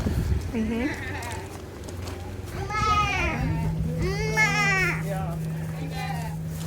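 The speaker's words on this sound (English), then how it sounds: "Oh, some goats in here." Several goats bleat in short wavering cries close by, with a steady hum underneath and a person speaking briefly.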